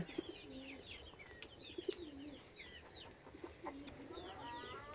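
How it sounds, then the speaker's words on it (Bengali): Silkie chickens cluck and murmur softly while waiting to be fed, a faint, continuous chorus of short calls with some cooing birds mixed in and no clear talk. "ওগুলাই খাওয়ার জন্য কেমন করতেছে, ওই যে সিল্কি মুরগি"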